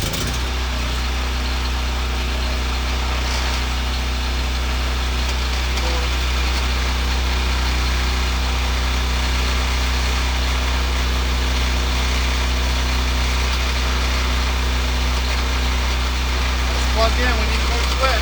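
An engine runs at a steady idle, a loud continuous low drone with no change in pitch for the whole stretch, while a person talks nearby.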